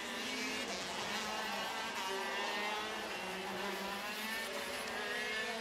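A Sodi KZ2 shifter kart in a WSK Super Master Series final, engine braking hard into a turn 2 hairpin, its two-stroke note descending and buzzing loudly and continuously, with other karts' engines whining close behind.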